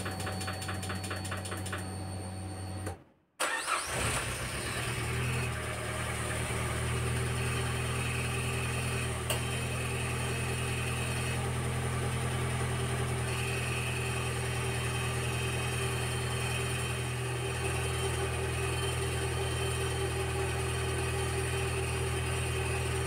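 A Peugeot 206 CC 2.0 16-valve engine cranks briefly, catches and settles into a steady, loud, even idle that runs for the remaining twenty seconds without talk.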